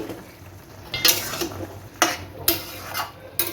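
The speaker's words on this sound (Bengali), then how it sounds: "এবার ঢাকাটা খুলে নিচ্ছি" A metal lid lifted off a cooking pot of pumpkin greens, potato and eggplant chorchori, heard as a few sharp clinks and scrapes of metal over a faint simmer, close by with no speech.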